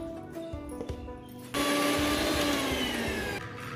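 A mixer grinder suddenly roars into a steady, harsh grinding whir as it coarsely grinds cabbage, running for about two seconds before cutting back, with no voices.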